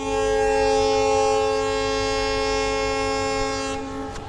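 A train in Mysuru sounds a loud, sustained horn chord over its engine roar, holding steady for about four seconds before cutting off abruptly near the end, with no talk.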